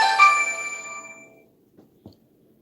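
A phone ringtone sounds as a bright chiming tone that rings out and decays over about a second and a half, followed by a couple of faint soft knocks in near silence.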